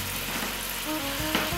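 Olive oil sizzles in a pan as the filling for a turkey pot pie gets started, a steady close hiss with faint crackle running throughout, with no talking.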